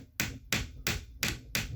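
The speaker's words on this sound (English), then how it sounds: "Get your screw, put it there, hammer it back." Hammer tapping a screw into a plastic wall plug set in a brick wall behind plasterboard, five sharp, evenly spaced knocks at close range.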